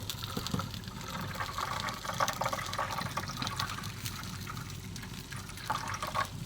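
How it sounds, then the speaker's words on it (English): Water poured into an au jus pan on a 36-inch Lang offset smoker, a steady splashing, gushing stream that runs continuously, close and moderately loud, with no talk over it. "Let's add just a little bit more water."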